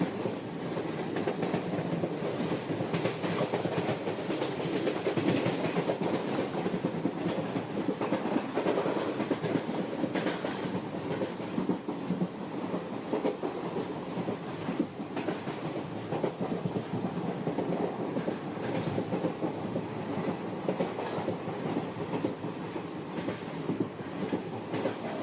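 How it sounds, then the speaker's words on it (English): A moving train rumbles steadily with rhythmic clickety-clack from the wheels on the rails, a constant loud roll with no voices. "from the rocking of the train"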